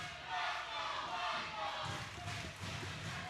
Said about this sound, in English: Listen to this capacity crowd